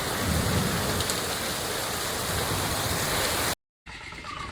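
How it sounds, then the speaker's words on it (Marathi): Heavy rain pours down in a dense, steady roar with low rumbling thunder beneath it, loud and continuous, then cuts to a brief silence before a quieter stretch of rainfall resumes. "भरपूर जोरात पाऊस लागता"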